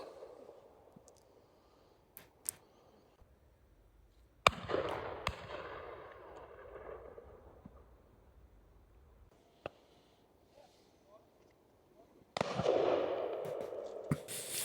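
Shotguns fire at partridges during a countryside shoot, several sharp reports at a moderate distance, a few louder blasts with short echoing tails between quiet gaps, plus faint clicks.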